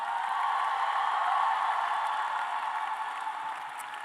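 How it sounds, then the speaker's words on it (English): A crowd at the 2024 Rutgers School of Public Health graduation convocation gives a steady wash of applause, with many hands blending into an even roar that fades slightly toward the end. "One more time, a round of applause"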